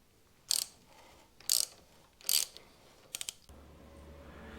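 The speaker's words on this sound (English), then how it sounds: "I'm just going to use a ratchet, an adapter for my socket" Ratchet with socket and adapter working bolts on the handlebar top clamps of a Harley-Davidson Pan America, heard as three sharp clicking bursts followed by a quick trio of lighter clicks, close and alone.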